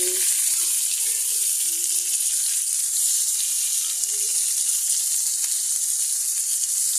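Chopped tomato and capsicum sizzling in a pan in which paneer was fried, a steady close hiss, with a voice faintly heard now and then.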